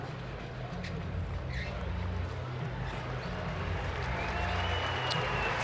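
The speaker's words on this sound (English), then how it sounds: "a hand from this crowd inside the Marriott Center" A basketball crowd inside the Marriott Center applauds during a college game, a steady wash of clapping and cheering that holds for several seconds, with commentary over it.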